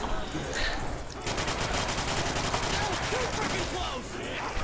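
Fast automatic gunfire from an AK-74U in Call of Duty custom zombies, rattling in a continuous burst after a short lead-in, with faint game sounds and occasional voices in the background.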